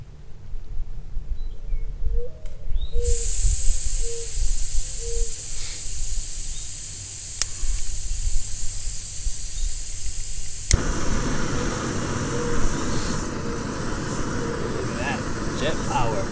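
A steady roaring hiss of a camping stove burning close up, continuous and loud, changing in tone partway through.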